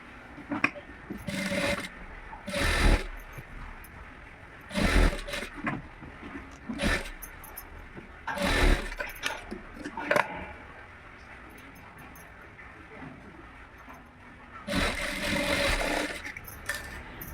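Someone stitching and overlocking a blouse works a sewing machine in repeated loud bursts of a few seconds each, separated by quiet pauses, close by with no talking.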